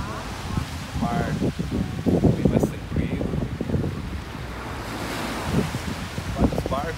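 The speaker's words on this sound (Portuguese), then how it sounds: "Aqui em Canto Grande vocês podem verificar que é bem mais calmo, mar." Calm sea waves at Canto Grande beach in Bombinhas wash in steadily under someone talking, with wind buffeting the microphone throughout.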